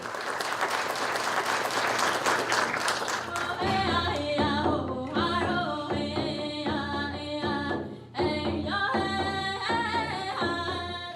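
An audience at an opening ceremony applauds steadily, a loud continuous wash of clapping that runs throughout, with music entering partway and playing beneath it.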